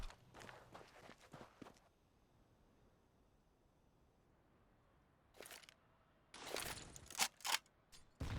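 Footsteps in an esports video game match arrive in quick bursts of crisp steps near the start and again toward the end, separated by a quiet stretch, with short sharp impacts among them.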